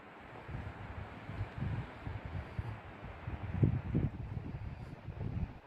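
Strong, cold wind blows outdoors in Finland, roaring and buffeting against the microphone in low, uneven gusts that swell and ease without any voices.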